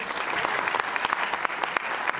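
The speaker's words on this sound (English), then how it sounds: "Nice round of applause right there" Audience at a show claps in a short, steady round of applause, many hands close together and fairly soft, with no speech.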